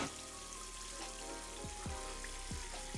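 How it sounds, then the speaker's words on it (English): Tap water runs steadily as a face mask is rinsed off at a bathroom sink, with a few soft splashes and low thumps breaking through the continuous hiss at close range. "I'm just gonna lightly wash off or like rinse off this face mask"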